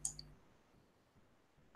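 A computer mouse click in quiet room tone: one soft click at the start and another at the end, close and faint, with no talk.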